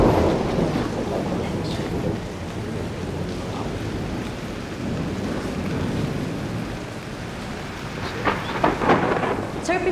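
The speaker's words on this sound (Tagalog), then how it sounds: "Lakas ng ulan eh." Heavy rain pours down in a steady, loud roar while deep rolls of thunder rumble underneath, with no voices over the downpour.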